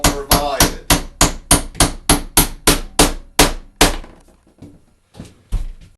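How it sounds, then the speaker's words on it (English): A nail hammered into a steel door frame: about a dozen sharp, ringing metallic strikes in a quick, even rhythm, loud and close, then a pause and a few slower, softer taps. "temporarily securing the frame in the slotted hole with the nail provided"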